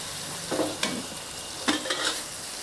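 Long beans being stir-fried with fish sauce in a hot pan, a steady sizzle with a few scraping stirs of the spatula, close and fairly loud, no talk.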